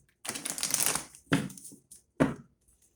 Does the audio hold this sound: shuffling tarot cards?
yes